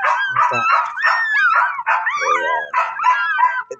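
Orphaned puppies whimper and yip in a close, continuous run of high, wavering cries while being fed milk from a dropper, with brief low grunts and a short lull near the end.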